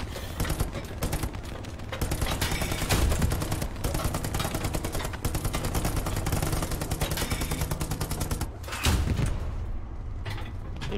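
Sustained machine-gun fire roars through a Hell Let Loose battle between Sherman tanks and German forces, dense rapid bursts running nearly nonstop at high volume with heavy booming impacts mixed in.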